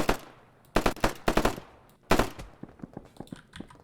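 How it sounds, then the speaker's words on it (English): Gunfire in burst fire mode from the video game Operation Harsh Doorstop: several quick, loud bursts of rapid shots separated by short pauses, with a few lighter, scattered shots trailing off at the end. "And also now I'm firing in burst fire."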